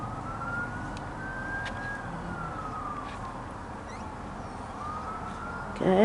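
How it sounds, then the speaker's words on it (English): Faint wailing siren from an emergency vehicle heard from outside an opened door, rising and falling slowly over steady background hum, with a brief louder clatter at the end. "And when I open my door, I hear siren sounds."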